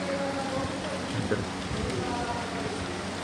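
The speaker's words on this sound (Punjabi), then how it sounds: "ਇਧਰ ਨੂੰ ਮੀਂਹ ਪਈ ਜਾਂਦਾ ਵਾ ਹਵਾ ਦੇ ਨਾਲ ਨਾਲ" Steady rain pours down in a dense, even hiss with a low rumble of wind, and a voice talks faintly underneath.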